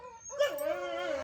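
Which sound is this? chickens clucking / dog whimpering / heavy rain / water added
dog whimpering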